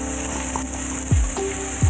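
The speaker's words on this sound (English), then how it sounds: "We want to get those onions nice and golden brown." Onions sizzle in olive oil in a pan over medium heat, a steady close frying hiss with a few soft clinks and scrapes as they are stirred, no voice over it.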